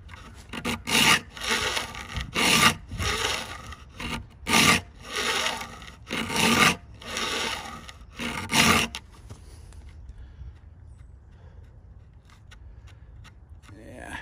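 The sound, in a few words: filing teeth while sharpening a vintage handsaw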